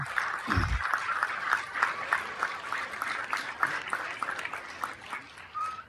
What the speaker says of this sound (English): Yes, applause. Yes, that was big.